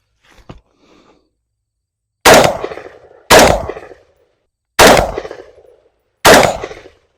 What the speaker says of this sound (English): what are my first impressions as I'm shooting this rifle